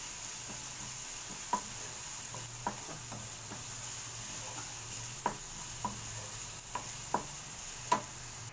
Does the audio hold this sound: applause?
no